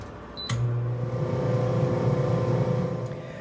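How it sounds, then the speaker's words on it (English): A steady appliance hum from an air fryer cooking a plank of salmon, starting with a click and running on as a constant low drone with a faint fan whir, no talking. "I have this salmon in the air fryer"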